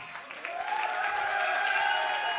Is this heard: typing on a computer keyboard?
no